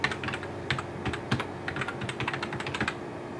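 Close, rapid typing on a computer keyboard while entering sign-in details, a dense run of crisp key clicks in uneven bursts with a faint steady hum behind.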